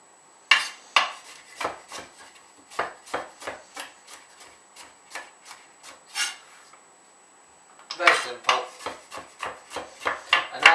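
Carrots and coriander being roughly chopped with a knife on a board, a series of crisp, close knocks in an uneven rhythm, pausing briefly before a faster closing flurry.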